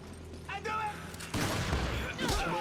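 A gunshot in the Resident Evil 5 video game cracks partway through, followed by a burst of broadband noise and a second blast near the end, with a voice talking underneath.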